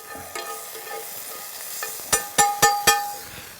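Garlic fries in oil in a pan at a bush campsite, a steady soft sizzle broken by a few sharp metallic clacks and scrapes of a utensil near the end, with no talking.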